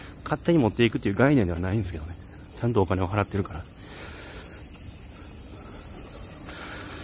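Summer cicadas keep up a steady, high, hissing buzz in a residential street in Gakuenmae, Nara. It runs under a man's speech at first, then continues alone.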